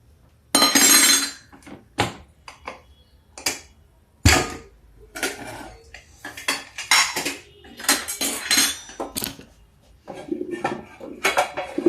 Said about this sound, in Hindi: अब ये कढ़ाई मैंने चढ़ा दी तड़का के लिए